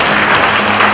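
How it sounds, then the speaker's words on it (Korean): Sustained audience applause at a trading-chart lecture seminar, dense and steady clapping from a crowd filling the whole moment without pause. "다시 한번 우리에게 좋은 강의 해주신 고일봉 마님께 박수 부탁드립니다"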